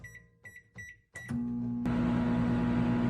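Several keypad beeps, then a microwave oven starts up with a steady low hum and whirring fan noise that continues to the end.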